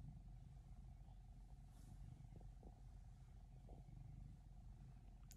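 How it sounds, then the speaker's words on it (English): A cat purrs very faintly and steadily at close range, a low continuous rumble running through a quiet room. "And just listen to that purr."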